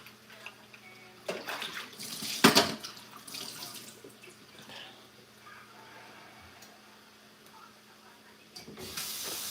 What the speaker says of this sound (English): I'm gonna wash this, rewash this spoon